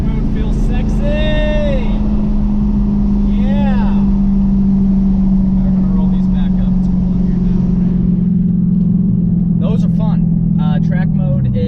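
A Dodge Scat Pack car fitted with a Tazer and a cold air intake runs in track mode, its engine holding a loud, steady low drone that fades out near the end, with short voice bursts over it.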